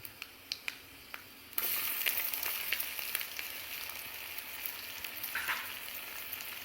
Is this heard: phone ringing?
no